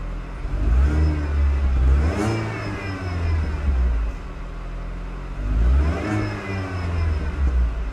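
A Mini Cooper S with a six-speed gearbox revs from idle in two rising and falling bursts, the engine note climbing and dropping back to a steady rumble in between, close by.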